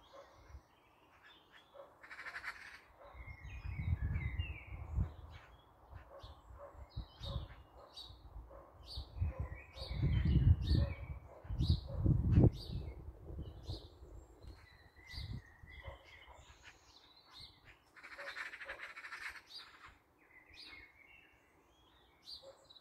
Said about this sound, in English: Still crowing there, you can hear it. Okay, another magpie, another magpie.